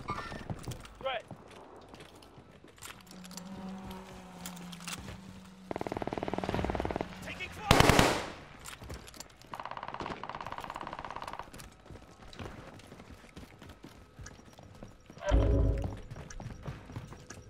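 Submachine gun fire in the video game Call of Duty Warzone, arriving as several short, sharp bursts scattered among quieter in-game mechanical noise and occasional game voice lines.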